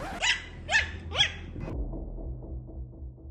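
Household dogs bark three sharp times in close succession, then fall quiet, leaving soft whimpering and low background noise.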